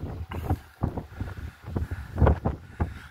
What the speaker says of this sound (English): You gotta be careful up here. The wind's blowing.